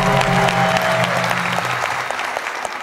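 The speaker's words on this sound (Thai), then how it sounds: "ในช่วงนี้เสียงปรบมือเกลียวกราวเลย" Dense crowd applause fills a studio hall at a Thai traditional saw u fiddle contest on a TV stage show. It starts loud and thins slightly as it continues, with no talking.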